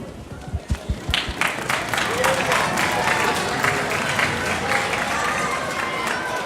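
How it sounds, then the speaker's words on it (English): A school concert audience bursts into applause, starting with a few scattered claps before swelling into a sustained, full roar of many hands that holds steady to the end. "Let's have a round of applause"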